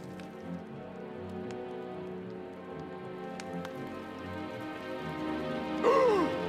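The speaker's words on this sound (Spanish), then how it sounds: "¡Llueve a cántaros!" Heavy rain pours down steadily in a cartoon scene, a continuous close wash of rainfall filling the whole moment, with a brief rising musical swirl near the end.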